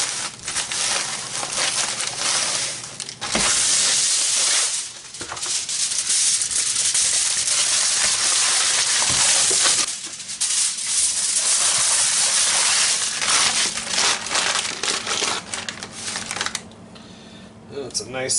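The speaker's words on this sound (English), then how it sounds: "I thought I'm going to start up the barbecue and let this cook for a while." Thick pork chops sizzle on a barbecue outdoors with a dense, crackling spatter that holds steady and loud, dipping briefly a few times, with a voice mixed in at moments.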